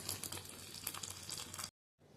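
A hot mustard, cumin, chilli, garlic and curry-leaf tempering is poured into cooked moong dal, producing a soft, close bubbling sizzle with faint crackles that stops abruptly.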